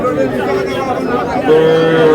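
Cattle market ambience at the traditional Aftabganj haat in Dinajpur, with young bulls and heifer calves for sale: steady crowd chatter and murmur throughout, with a sustained cow moo rising near the end.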